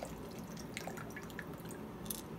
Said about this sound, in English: whatever water was in there is falling all over the floor.